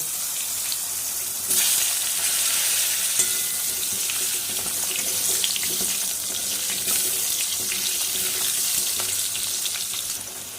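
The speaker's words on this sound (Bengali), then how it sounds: "ওই তেলের মধ্যে কেটে রাখা আলুগুলো ভেজে নেব।" Cut potatoes fry in oil left over from frying katla fish, giving a loud, continuous sizzling hiss that holds steady throughout with no talking.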